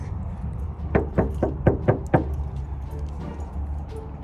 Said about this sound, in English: She got me knocking on doors